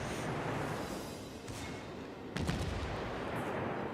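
Bismarck battleship main guns in World of Warships booming over a steady roar of sea and engine noise, with a faint burst early and a sharper heavy salvo about two-thirds through.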